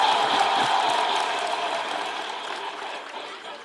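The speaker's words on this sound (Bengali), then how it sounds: "ইমোশনসের জন্য বটে জোরে হাততালি" Sustained broadband applause from an audience at an event with Dr. Yunus, steady and fairly distant, slowly fading toward the end with no voices over it.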